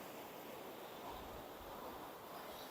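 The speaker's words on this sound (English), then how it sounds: "you can see how the erosion is when the waves beat against it, or the wall" Ocean waves beat against an eroding sea wall, a continuous broad rush of surf mixed with wind noise, fairly faint with no voices.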